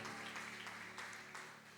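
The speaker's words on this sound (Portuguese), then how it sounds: "Pode aplaudir ao Senhor." Church congregation applauding during a sermon, a soft, fairly distant patter of clapping that fades slightly toward the end.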